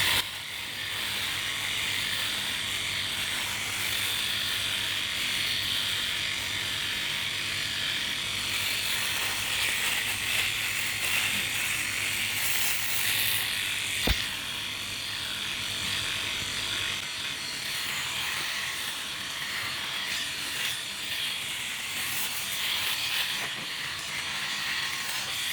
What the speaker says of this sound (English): Okay, let's get on with the shaving.